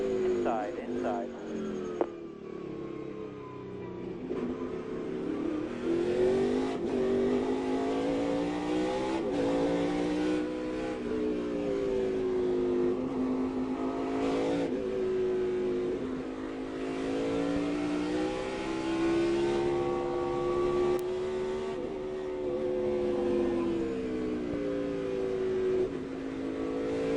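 NASCAR Cup race car engines at Infineon Raceway (Sears Point, Sonoma) in 2006 drone and rev continuously, pitch rising and falling as the cars accelerate and brake. Commentators talk over the engines.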